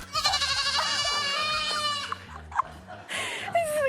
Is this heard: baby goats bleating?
yes